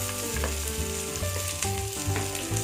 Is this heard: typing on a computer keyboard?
no